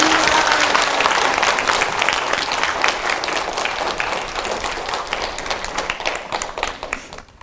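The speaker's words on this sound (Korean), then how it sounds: "신부님께 큰 박수로 응원해 주시기 바랍니다" Sustained audience applause at a Catholic prayer meeting in a church, welcoming a priest: broad, steady clapping from a sizeable crowd that gradually fades out.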